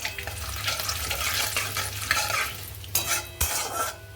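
Whole garam masala spices sizzling in oil in a wok for mutton curry, a steady close frying hiss with stirring scrapes and a couple of sharp bursts near the end.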